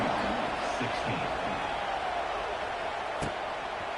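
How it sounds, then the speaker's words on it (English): Football stadium crowd at a college game, a steady dense roar throughout, loud and unbroken, with faint talk beneath. "this crowd is buzzing after that last score."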